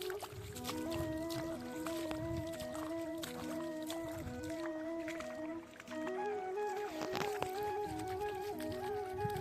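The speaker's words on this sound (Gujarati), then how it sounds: "હવે ચાલુ કરી છે મોટર." A water pump motor runs in a farm field, sending water to a chickpea crop. It gives a steady, close droning hum with shifting whining tones, while water gurgles and flows underneath throughout.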